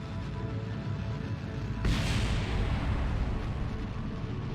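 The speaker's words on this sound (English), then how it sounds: "Kaboom goes our fuel tank." A fuel tank explodes in the space flight game Kerbal Space Program, a sudden low boom bursting out of a rumbling engine drone and then fading back into the steady roar.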